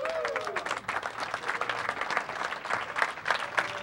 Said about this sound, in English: Ladies and gentlemen, give yourself a round of applause.